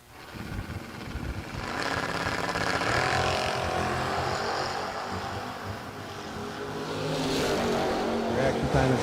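A 1980 Chevrolet Camaro launches down a drag strip, its engine roaring and rising in waves as it pulls away, loud and broad under a track announcer's voice.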